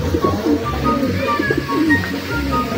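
A Grizzle training pigeon coos in soft, repeated throaty bursts close by, with light chirps and other bird calls mixed in.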